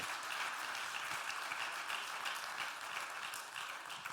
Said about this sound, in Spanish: si le puede dar un aplauso a Cristo